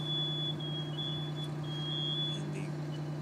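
A faint, high-pitched smoke alarm tone sounds on and off over a low, steady hum, distant and quiet, during a fire demonstration with a couch burning.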